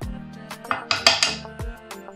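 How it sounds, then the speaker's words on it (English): Metal spoon scraping and knocking against a pot while stirring boiling banga soup, several sharp clinks in quick irregular succession, close and clear with no talk. "So we're going to stir this lightly."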